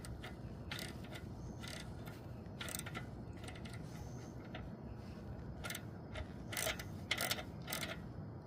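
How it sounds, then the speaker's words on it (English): Socket wrench tightening a motorcycle chain adjuster, giving a run of close mechanical ratcheting clicks in short bursts over a steady background hum, growing slightly louder toward the end. "So I have my socket on one of the chain adjusters, right? So I'm going to tighten it."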